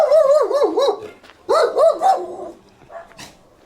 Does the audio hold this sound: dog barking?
yes